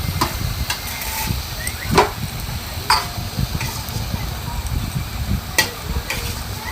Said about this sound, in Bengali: আলু মশলা একসাথে আমি একটু কষিয়ে নিলাম।